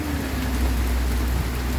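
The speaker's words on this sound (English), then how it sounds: "the tropical rainstorm is just dominating the day" Tropical rainstorm pouring down outdoors, a steady dense hiss of rain with a low rumble beneath, loud and alone.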